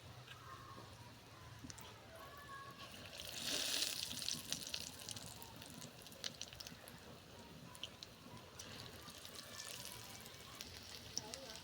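Cauliflower pakoras dipped in gram flour batter frying in hot oil, a steady close sizzle throughout that swells louder for a moment early on before settling back.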